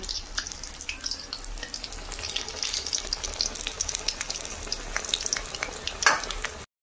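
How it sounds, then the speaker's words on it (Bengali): Leaf-wrapped prawn spring rolls, dipped in gram-flour batter, fry in hot oil with a dense, crackling sizzle of popping bubbles throughout, close and steady with a brief louder spatter near the end. "এভাবে এক এক করে পাতার ভেতরে চিংড়ি মাছের পুর ভরে আমি ভেজে নেব।"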